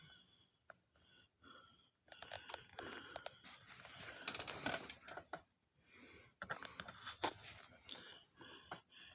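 A sewing machine's bobbin winder knob being cranked by hand, a close, dry ratcheting clatter of gears in bursts separated by short pauses, with no voices.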